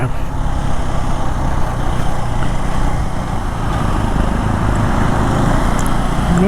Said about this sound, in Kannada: ಏನು ಗಾಡಿ ಸ್ಟಾಲ್ ಆಗುತ್ತೆ, ಎರಡನೇ ಸಲ ಸ್ಟಾಲ್ ಆಯಿತು